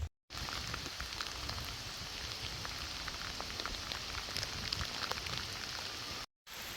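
Steady rain falls outdoors at a railway, making an even, close patter on surfaces with scattered individual drops and no voices.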